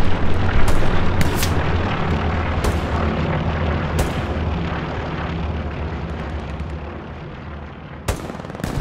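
Explosions and gunfire in the World War II shooter game Hell Let Loose: sharp, loud booms and cracks burst at irregular intervals over a constant rumbling battlefield din, with no talking.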